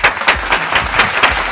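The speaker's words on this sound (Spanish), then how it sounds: "recibamos con un fuerte aplauso" A television studio audience welcomes a guest with loud, steady rhythmic clapping in even beats, close and full, with no talking over it.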